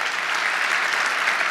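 An audience bursts into dense, steady applause, a continuous wash of clapping throughout.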